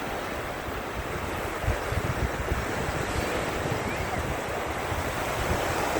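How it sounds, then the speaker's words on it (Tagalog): Steady roar of ocean surf with waves washing continuously, broad and rushing, with some wind buffeting the microphone; no voices. "malalaki ang alon"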